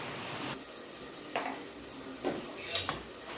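Goat head curry with turmeric being stirred in a pan, with soft sizzling under a few distinct scraping strokes of a spoon against the metal, spaced about a second apart.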